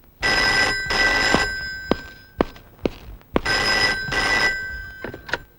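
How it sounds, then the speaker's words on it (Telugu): An old-style telephone bell in a Telugu film scene rings in two double bursts, each long and loud, with thuds and knocks landing in the pauses between the rings. "6 నిమిషంలో ఆ ఫోన్ మోగుద్ది"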